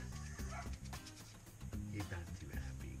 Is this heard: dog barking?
yes